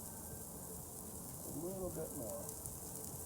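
Olive oil sizzles steadily in a pan while ribeye steak sautés, a continuous close frying hiss that runs under a man's speech throughout.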